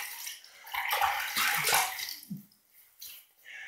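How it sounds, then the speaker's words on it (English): Water runs from a tap into a sink for wetting the face before shaving, a short steady splashing stream that swells then tapers off, heard alone and close. "so let me get some water here."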